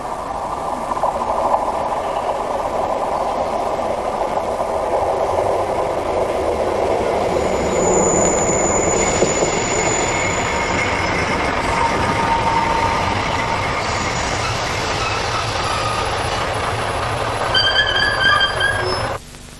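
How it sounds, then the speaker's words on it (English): Steam train on the Keighley & Worth Valley Railway rumbling steadily and loudly for the whole stretch, with a brief high squeal or whistle partway through and some tonal ringing near the end. "just come to watch the steam trains thunder by"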